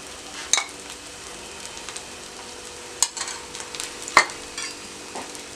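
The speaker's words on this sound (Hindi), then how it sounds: "दरमियानी आंच पर फ्राई करें।" Aloo palak tikki frying in oil over medium heat, a soft steady sizzle broken by several sharp clicks and scrapes as the patties are nudged around the pan, no talking.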